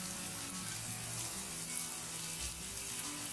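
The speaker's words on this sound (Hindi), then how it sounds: "सो फ्रेंड्स, अनियन हमारे भून रहे हैं और मैं इसे अच्छी तरह से भून लेना है" Onions fry in a pan during a home kitchen cooking session, giving a steady, even sizzle that runs throughout at a moderate level with no talking.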